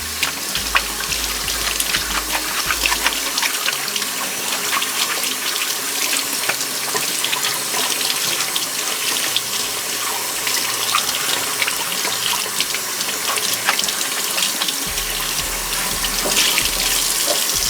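Tap water runs steadily throughout, splashing into a sink as sandy humidifier parts are rinsed and scrubbed with occasional clatter; a low hum comes and goes.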